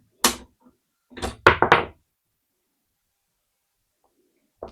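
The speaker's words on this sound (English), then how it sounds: "To unload the rifle, you open the bolt," A Hungarian Mannlicher 35M rifle bolt being opened: one sharp metallic click, then a quick cluster of clacks and a slide, close and alone, followed by silence and a faint knock at the end.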